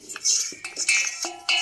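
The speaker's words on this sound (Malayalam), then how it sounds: "ഒരു തവിയെടുത്ത് അല്ലെങ്കിൽ ഒരു നീളമുള്ളൊരു സ്പൂണെടുത്ത് നമുക്ക് ഇളക്കി അതിനെയൊക്കെ ഒന്ന് യോജിപ്പിച്ച് വയ്ക്കാം" A ladle or long spoon stirs a mix of salt, pepper powder and turmeric in a bowl, giving a few light metallic clinks and scrapes, close and brief, with no talking.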